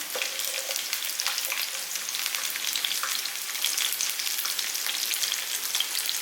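Shallots, curry leaves and tamarind sauté in a hot pan, a steady dense sizzle and crackle throughout with faint stirring, no voices.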